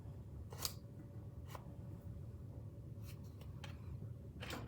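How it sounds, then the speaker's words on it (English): A card is dragged across wet paint on paper while painting snowy birds in trees, making several short, dry scraping strokes that stand out over a steady low background hum. "And you're gonna slide your card across."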